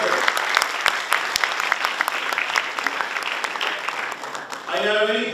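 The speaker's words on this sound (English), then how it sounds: "Give a huge applause to all of them." Audience clapping at a university gathering, a steady wash of many hands with individual sharp claps standing out; a voice starts speaking as the applause ends.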